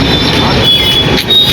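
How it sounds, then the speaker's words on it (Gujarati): A train departs a station at Kosamba on a rainy evening, giving a loud, steady rumble of rolling wagons with high wheel squeal running throughout. "ટ્રેન જઈ રહી છે."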